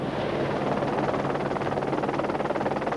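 A steady, rhythmic chopping drone of a helicopter escorting over the sea, loud and continuous, with wind rumble and no voices.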